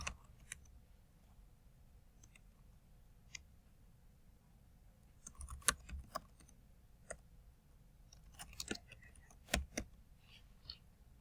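Keys tapped on a computer keyboard while a folder name is entered, a quiet scatter of irregular clicks and short bursts, faint and close, over a low steady room hum.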